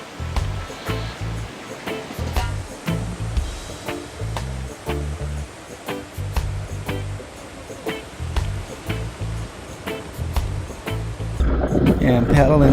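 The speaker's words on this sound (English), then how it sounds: "I'm paddling for a solid longboard wave here" Ocean waves wash around a longboard surfboard as it is paddled out, a broad watery rush under steady rhythmic music, swelling louder toward the end.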